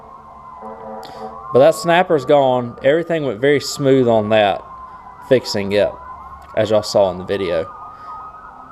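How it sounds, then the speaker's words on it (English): An ambulance or police-style emergency siren wails steadily in the distance, its rising and falling tone running the whole time beneath someone talking close by in a workshop. "Pardon the siren, sounds like somebody's had an emergency."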